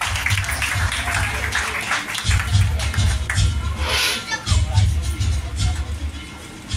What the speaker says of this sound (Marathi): एकदा जोरदार टाळ्या नक्की व्हायला पाहिजे